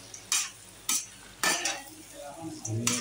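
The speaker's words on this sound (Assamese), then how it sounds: "ধুনীয়াকৈ লৰাই থাকিব দেই মাংসটো" Duck meat is stirred and fried in a pan: repeated scraping stirs of a utensil against the metal every half second or so, over a soft, steady sizzle.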